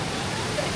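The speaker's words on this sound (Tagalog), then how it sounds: "We're now here at Kawa Falls." Kawa Falls rushes as a continuous broadband roar on a rainy hike, steady and fairly loud, with faint voices blended into the wash for under a second.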